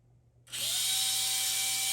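Small electric motor of a Viper HO slot car on an AFX track spinning up suddenly to a steady, high-pitched whine that holds close and constant, with no talk.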